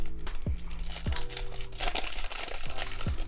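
Foil wrapper of a Pokemon Wild Force booster pack being torn open and crinkled up close, loud continuous crackling with sharp ripping bursts, over faint background music.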